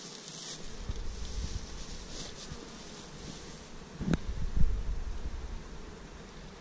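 Honey bees buzz in a dense, continuous hum close by at an open hive, with light wind noise and a brief louder knock partway through.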